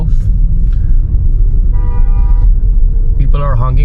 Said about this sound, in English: People are honking at me, as you can see